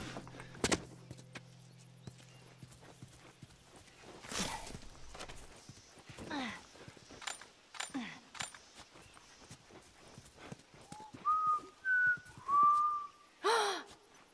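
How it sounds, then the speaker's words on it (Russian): A person whistles a short rising-and-falling tune in a quiet outdoor setting, the clear tones coming near the end after soft footsteps and rustling. "Я могу свистеть."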